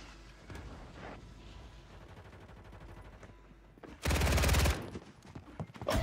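Gunfire in the shooter Warzone 3 on the Vondel Park map: quieter scattered shots and game chatter, then a sudden loud, dense burst of fire that fades into further sporadic shots.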